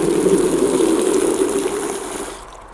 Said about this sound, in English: just enough water to wash off the roots.